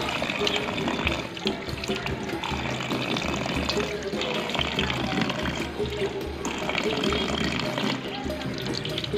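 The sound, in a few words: water splashing from a tap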